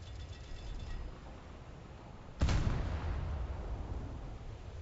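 A torpedo strikes an enemy ship in a realistic US Navy versus IJN naval combat game, landing as one sudden deep boom at mid-clip, then a long low rumble over steady ocean and engine noise.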